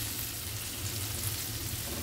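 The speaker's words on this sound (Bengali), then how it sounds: "দেখো পেঁয়াজটা মোটামুটি ভাজা হয়ে গেছে" Sliced onions fry in a pan with steady, close sizzling and crackling that holds at an even level throughout, with no voices present.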